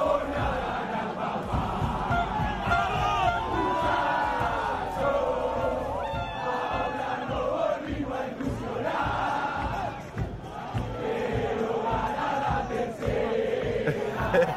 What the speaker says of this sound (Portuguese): Olha a torcida aí, ó, comemorando a minha aposta